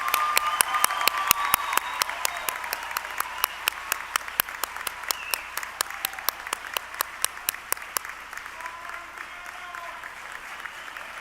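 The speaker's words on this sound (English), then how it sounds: "let's give our graduates a round of applause." Applause for graduates at an autumn commencement ceremony, faint and distant, with sharp regular clicks cutting through the scattered clapping.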